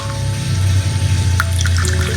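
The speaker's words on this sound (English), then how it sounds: "I'm going to add a little bit of water," About half a cup of water pours steadily into a pot of egg biryani base cooking down to a soft pulp, a close, continuous splashing trickle with a low hum underneath and no talk.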